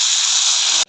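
Vinegar hitting a hot pan with garlic during Egyptian koshari cooking, a loud, steady broadband hiss lasting under a second and cutting off abruptly.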